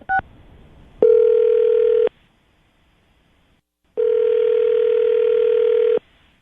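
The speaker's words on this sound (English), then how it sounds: "So, all right, Lily, we're about to call Mark and see if we can get him on the phone" Telephone dialing followed by two long, steady ringback tones with a silent pause between them, loud and clear as a call to someone is placed.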